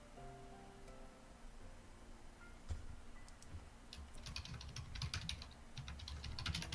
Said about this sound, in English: We can hear you clicking, Shadow.